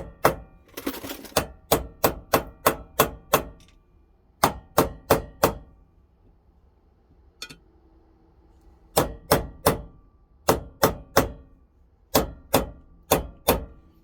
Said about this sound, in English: Now I'm hammering on the old bearing as a driver